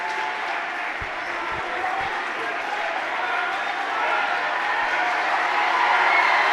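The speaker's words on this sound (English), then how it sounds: "And listen to the crowd for your Grizzlies." Crowd roar in a high school basketball gym for the Grizzlies during Wichita Northwest versus Maize, a broad sustained din of cheering and clapping that swells toward the end, with a few thuds early on.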